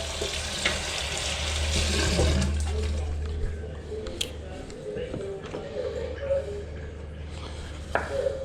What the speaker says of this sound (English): A couple of tomatoes. I'll just give them a wash.